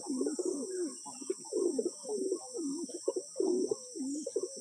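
Pigeons coo at home in repeated rolling phrases, about eight throaty calls in a steady rhythm, close and fairly loud over a constant high-pitched hiss.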